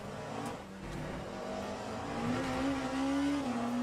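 A hypercar engine in the racing game Le Mans Ultimate at Monza, a steady droning roar that climbs in pitch as it revs up, heard on its own at moderate level.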